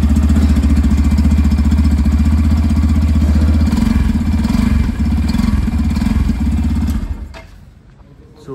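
A 2024 Yamaha FZS V4 motorcycle idles close up with a loud, steady, low throbbing exhaust note for about seven seconds, then the engine is switched off and quiet follows.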